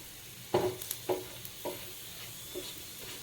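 Raw banana slices frying on a tawa, with a few distinct stirring scrapes and clacks over a faint, steady sizzle; close, fairly quiet, no voices.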